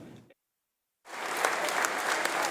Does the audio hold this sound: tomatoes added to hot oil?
no